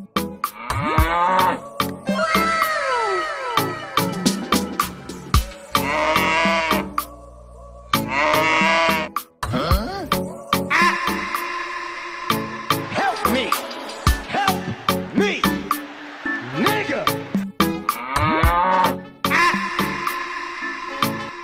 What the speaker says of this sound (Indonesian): Kagak benar nih, sapinya ngamuk. Aduh, sapi ngamuk.